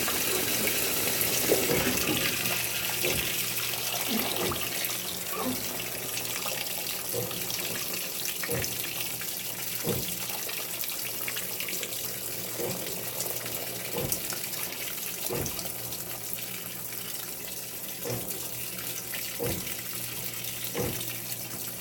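A GE GTW680BS6JWS top-load washing machine on its delicate cycle fills with water, a steady close rushing gush with faint periodic knocks running throughout.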